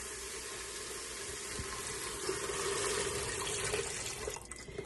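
Water from a faucet runs and splashes into an emptied chicken broth can as it is rinsed and swirled, a steady close hiss filling the kitchen for about five seconds without talk.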